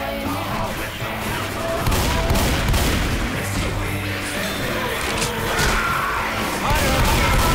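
Heavy gunfire and crashing combat noise from a zombie shooter video game while sniping at a horde, a dense, continuous barrage with sharp reports throughout.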